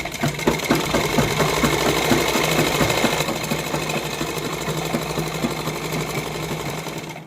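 A sewing machine runs continuously, stitching an inner lining onto a heavily hand-worked suit, with a rapid, steady mechanical chatter close to the microphone and no voices.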